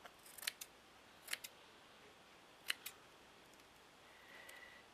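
Scissors snipping through material for a vintage book cover, a few quick separate cuts in short pairs, close and fairly quiet against a still room, with no talking.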